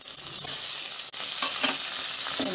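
Ginger garlic paste sizzling with onions in hot oil, a steady bright frying hiss with light stirring scrapes, close and moderately loud, no voices.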